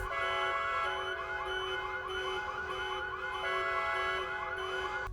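Several car alarms blare together, overlapping warbling and whooping tones in a loud, continuous electronic wail with no voices.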